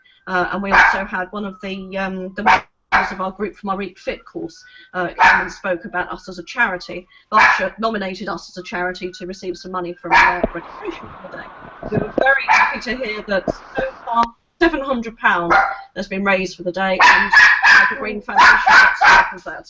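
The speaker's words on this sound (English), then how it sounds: "that's the dog, somebody at the door." A house dog barks at someone arriving at the door, its barks coming through in bursts beneath a person's continuous, close talking.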